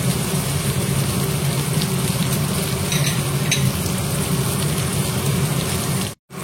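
Katla fish curry ingredients sizzle steadily in a kadai, a dense, even frying crackle that runs on its own with only a brief dropout near the end.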